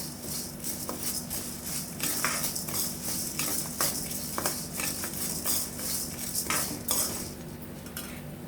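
Coriander seeds and cumin being dry-roasted in a pan with a little oil, a spoon scraping and stirring in steady clinks alongside a soft continuous sizzle, close and fairly loud, no talking.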